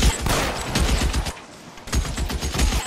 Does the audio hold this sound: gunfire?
yes